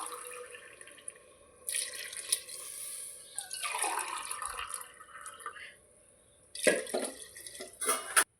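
Water is poured into a pot of sautéed vegetables for veg biryani, coming in uneven splashing bursts with pauses between, close by.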